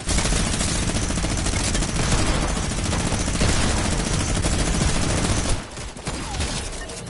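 Rapid video game gunfire, a dense continuous burst of automatic shots that cuts off abruptly near the end, leaving quieter scattered shots.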